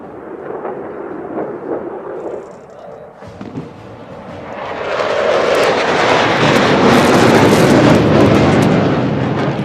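A Solo Turk aerobatic jet roars over a parade ground during a national day air show, a distant rumble swelling into a loud, broad, sustained jet roar as it sweeps closer overhead.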